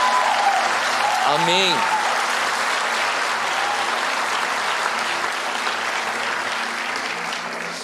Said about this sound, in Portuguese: você consegue aplaudir Jesus por isso?